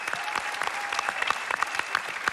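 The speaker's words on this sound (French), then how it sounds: "on l'applaudit bien fort" Lively audience applause follows a song performance at the Ziktruck finale, with quick dense clapping that stays even and continuous, and faint voices underneath.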